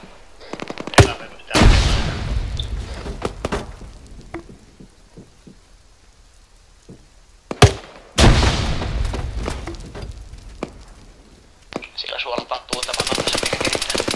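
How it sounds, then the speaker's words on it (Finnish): Bursts of nearby gunfire in a shooting video game, with two loud sharp volleys and scattered single shots between them, then a steady rushing noise at the end. "niin ammuskelee joku jätkä aika lähellä"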